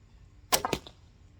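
An arrow released with a Sasanian thumb draw, a quick sharp twang and snap followed by a couple of rapid thuds, close and clear in a quiet setting.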